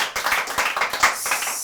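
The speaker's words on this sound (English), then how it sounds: "they should give you a round of applause right now" Studio audience on a talk show breaks into applause, a dense patter of many hands clapping steadily and fairly close for a short burst, with no voices over it.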